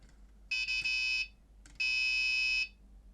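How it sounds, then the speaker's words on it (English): A buzzer rigged to simulate bike ABS activating under hard braking gives two steady electronic buzzes, each lasting under a second with a short gap between, clear and alone over a low hum. "should see it go below the green line and the buzzer goes off"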